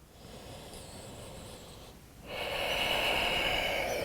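Slow, audible breathing while holding a yoga forward fold: a soft, airy inhale, a brief pause, then a louder, longer exhale rushing through the nose, heard up close.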